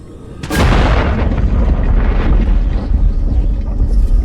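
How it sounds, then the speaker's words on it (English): In the video game Alien Isolation, a sudden deep boom from rock blasting erupts and trails into a long rumbling roar that slowly fades, loud and close. "There's a fissure in the rock. Stand back. I'm gonna blow it."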